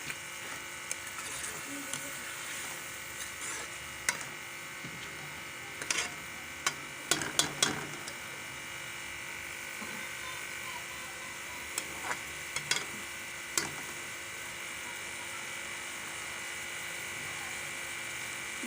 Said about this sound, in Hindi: अब मैं दाल शामिल कर रही हूँ, दाल माश। अब इसकी बुनाई करती हूँ।